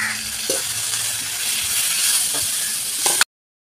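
Garlic, ginger and fresh curry leaves sauté in hot oil with a steady, close hiss and sizzle that runs unbroken for about three seconds, then stops abruptly into silence.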